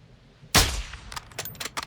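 A single sharp sniper rifle shot in Call of Duty Modern Warfare 2 cracks loud and close, then trails off into a decaying echo with a few faint clicks and small bursts after it.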